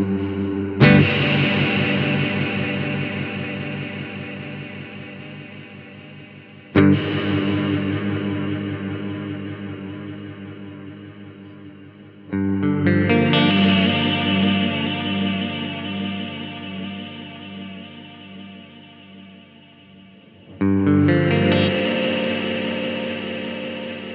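EarthQuaker Devices Transmisser reverb pedal on electric guitar, its reverb carrying a chorus-like modulation with a hint of delay; four strummed chords ring out one after another, each swelling into a long, shimmering decaying wash with no talking.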